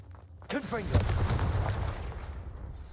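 In the Hogwarts Legacy video game, the Incendio fire spell erupts with a sudden booming whoosh and crackling roar that swells and slowly fades, loud and close, with a voice briefly audible.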